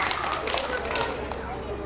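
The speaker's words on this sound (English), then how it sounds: "Come on, I want everybody to clap for him" Students in a school classroom clap for a classmate, a dense, steady patter of many hands at close range with voices mixed in throughout.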